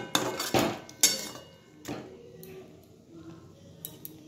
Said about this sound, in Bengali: ভালো করে একবার মিশিয়ে নিচ্ছি শাকটাকে।